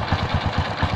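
An old motorcycle engine idles after repair work on its compression, a quiet, even putter of rapid low thumps heard up close with no voices.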